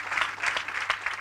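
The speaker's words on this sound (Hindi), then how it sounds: "ऐसे खुदावंद यीशु मसीह के लिए आप कितनी तालियां बजा सकते हैं।" Congregation applause at a Christian worship gathering praising Jesus Christ, a short, dense burst of clapping from many hands filling the space evenly from start to finish.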